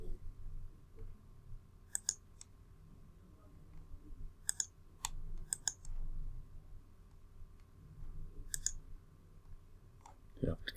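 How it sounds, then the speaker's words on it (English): Sharp mouse clicks while editing font size on a computer, arriving as scattered single and double clicks over a low room hum, with quiet talk around them. "Double click on that and we can change the font size."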